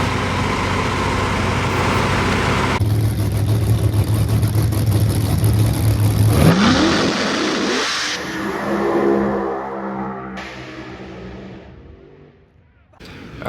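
A car in an Outlaw Big Tire class drag race at a speed promotions event revs hard and accelerates loudly down the strip, its engine roar climbing in pitch before fading, with crowd noise and talk around it.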